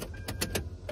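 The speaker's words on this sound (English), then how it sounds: "My game plan is to turn the car on and try to just eject them now" A car CD player tries to eject stuck discs: several short, rhythmic whirring mechanical pulses from a small motor in the dashboard, close by, over a steady low hum, with no talk.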